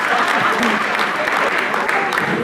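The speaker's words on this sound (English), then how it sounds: "Please give a round of applause" Audience at a keynote talk in Gauteng, South Africa, applauding in a steady, dense wash of clapping, with crowd murmur and a voice mixed in.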